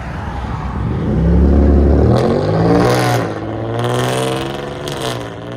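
A 2016 Hyundai Genesis Coupe with a 3.8L V6 and straight pipes revs loudly up close, a deep throaty blip rising and falling in several swells with a raspy exhaust note.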